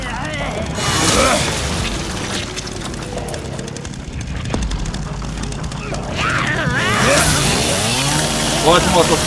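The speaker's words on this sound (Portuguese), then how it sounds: "Gosta de motosserra, cara?" Chainsaw revving in the video game Resident Evil Requiem, a loud, rough engine snarl that rises and falls amid heavy booming game action, with voices talking over it.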